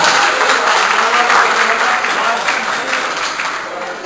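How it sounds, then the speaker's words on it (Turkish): An audience at a hotel gathering in Ayvalık applauds to welcome Ünver Bey up to give the opening speech, loud, dense and sustained clapping from a crowd that fades slightly toward the end. "Ama daha güçlü şey bir alkış lütfen."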